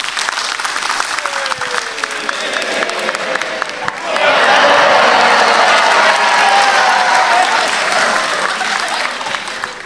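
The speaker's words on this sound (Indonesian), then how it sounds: "Semuanya di sini yang dulu anak Abah boleh minta tepuk tangan." Audience applause swells at a crowded event hall in Indonesia, starting as scattered clapping with some voices and rising after a few seconds into a loud, dense, sustained wave of claps and cheers.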